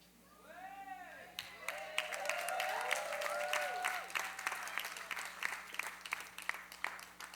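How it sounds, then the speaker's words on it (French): An audience at a gospel concert applauds the choir, the clapping building from quiet to a full, sustained patter with some voices mixed in. "On peut continuer d'applaudir."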